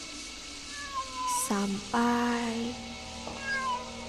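A cat beneath a bathroom sink meows several times, close and fairly clear, over a quiet background with a faint hum. Brief speech is also heard.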